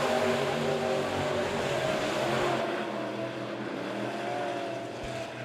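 Race cars lapping at Monett Motor Speedway during a heat race, a dense, continuous engine roar from several cars that swells and shifts in pitch as they pass, loud and steady without talk.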